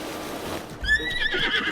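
Horse in the video game Breath of the Wild letting out a single short, loud whinny near the end, close and clear over a low background rumble, without speech.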